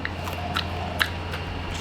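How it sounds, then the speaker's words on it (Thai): Someone chewing hard, tough food at close range, with a few irregular crunchy, squishy bites over a low background hum. "โอ้เคี้ยวยากมาก ทุกคน"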